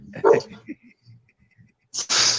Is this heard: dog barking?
yes